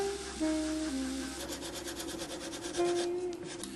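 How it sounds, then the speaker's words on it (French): A jeweler works a freshly cast jewel with a file, emery paper and abrasive silicone, producing soft, close rubbing and rasping strokes with a few faint tonal squeaks over a quiet workshop background. "à l'aide de lime, papier émeri et silicone abrasif, l'artisan efface toute trace de fonderie"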